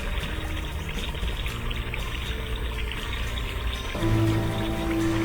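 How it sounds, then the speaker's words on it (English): Water in a small canal flows steadily beneath a tiny stone, soil and wood bridge after bank cleaning and silt removal, a continuous close pouring and trickling wash that swells slightly louder toward the end, with no voices. "Below, the water finally flows under the bridge as it should."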